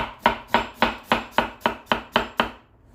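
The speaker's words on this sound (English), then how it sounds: "I'm going to cut the root off" A knife cuts the root off an onion with nine evenly spaced, crisp chops on a cutting board, close and loud, sounding alone.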